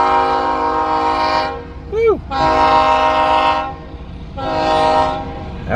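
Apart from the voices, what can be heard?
passing train with horn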